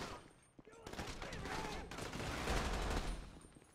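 Bursts of gunfire during a bank heist shootout in the video game GTA 5, rapid overlapping shots rising into a dense, busy volley at moderate level with game background noise.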